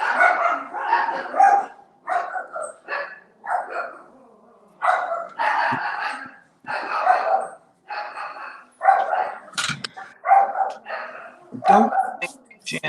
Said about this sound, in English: Sorry for the dogs. They probably see somebody walking a dog,